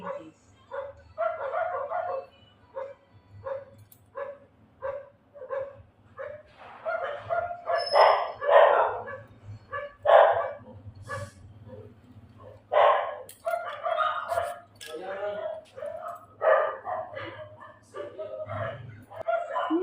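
Several dogs bark and yip in repeated bursts, close and fairly loud, with a low steady hum underneath and some whimpering.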